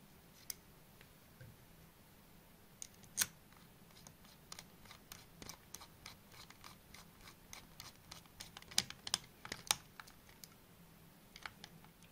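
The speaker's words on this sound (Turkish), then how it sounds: "Şu iki parça hemen hızlıca vidalamasını yapalım." Gaming PC parts being screwed together by hand, a quiet, close series of irregular ticks, clicks and scratches from the screwdriver and metal fittings, scattered sparsely with brief clusters and no talk.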